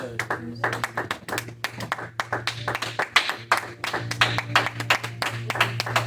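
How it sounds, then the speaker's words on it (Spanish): Church congregation clapping in praise at a multilingual French and Spanish service, a steady run of sharp hand claps throughout, close and fairly loud, with a low steady hum beneath. "Nous applaudissons pour le Seigneur."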